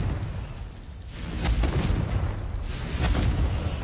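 Repeated fiery spell blasts from the Confringo curse in the video game Hogwarts Legacy, two loud booming bursts with crackling tails over a constant rumbling game backdrop, no voices.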